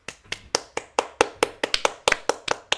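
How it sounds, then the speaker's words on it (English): A small studio audience claps in sparse, irregular individual claps spread over a few seconds, close and fairly light, with no talking over it. "Why are you making us clap?"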